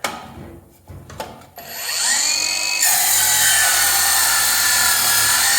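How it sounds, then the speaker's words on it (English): A VEVOR 20-volt battery circular saw rips through dense, heavy-duty 1x3 pallet wood. A few short knocks come first, then the motor spins up into a loud, steady whine. It deepens into a harsher, sustained cutting roar as the blade bites in. "Let's do this dense 1x3 heavy duty pallet wood here."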